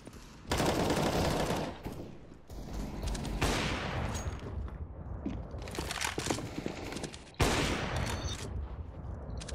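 Bursts of automatic rifle fire crack loudly in CS:GO on the Mirage map, with sustained volleys separated by short quieter gaps and no talking.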